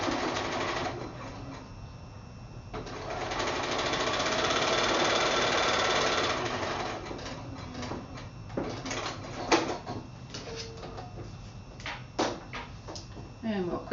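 A sewing machine runs a seam on a quilt block in bursts, with a long steady stretch in the middle, then shorter stop-start runs mixed with clicks and handling noises. Talk can be heard around it.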